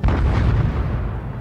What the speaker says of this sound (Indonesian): suara ledakan keras mengguncang udara.